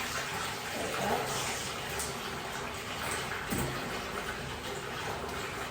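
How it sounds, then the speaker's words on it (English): Lukewarm tap water runs steadily into a basin prepared for washing a curly wig, a continuous hiss of flow with small splashing variations throughout. "I'm actually putting on lukewarm water, not hot water."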